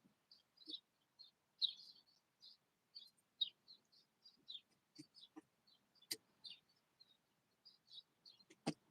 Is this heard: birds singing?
yes